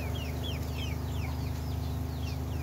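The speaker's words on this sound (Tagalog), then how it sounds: "Update sa mga manok ni Sebi." Chickens cluck steadily in a busy coop, with several birds calling at once and thin chirps overhead, close and continuous.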